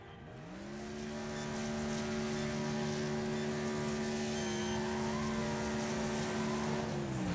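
A Crown Victoria race car engine in the Wreckfest game revs up from quiet into a sustained, loud, steady drone with rising and holding pitch, heard alone without speech.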